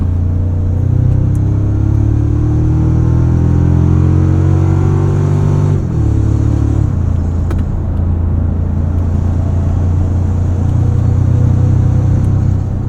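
A 2024 Toyota Tacoma Trailhunter pickup on 33-inch all-terrain tires drives a Southern California back road, its engine a loud, steady close rumble that climbs in pitch as it revs, dips briefly midway, then settles into an even drone.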